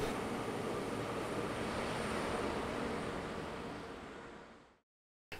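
A two-car Alstom Coradia LINT 41 class 648 regional train at Göttingen station gives a steady broad roar that slowly fades, then cuts off abruptly, fairly loud and close with no talking.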